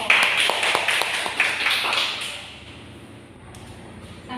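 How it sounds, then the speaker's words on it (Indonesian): Classroom of children applauding for all the groups, a brief burst of clapping that fades out after about two seconds, leaving quiet room tone. "Oke, kita beri tepuk tangan untuk semua kelompok."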